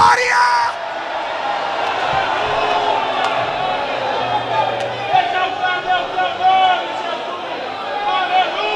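A church congregation shouts and cheers a loud cry of glory together, a sustained roar of many voices with whoops and yells that stays dense and close throughout.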